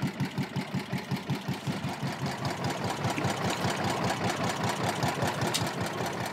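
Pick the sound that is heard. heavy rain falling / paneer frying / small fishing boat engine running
small fishing boat engine running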